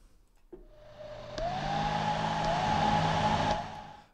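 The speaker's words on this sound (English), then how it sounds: "now I'm gonna load the hairdryer" A hair dryer switches on and blows steadily for a few seconds, a near, loud whirring hum with a rising whine, then winds down at the end.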